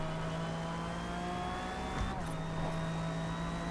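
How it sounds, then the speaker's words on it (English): A 1997 McLaren race car in the Forza Motorsport game holds a steady, fairly quiet engine drone with a whining tone, dipping briefly as it shifts gear, with no talk over it. "This engine is quiet, so its power is deceiving. Doesn't sound like it's doing much, but it really is."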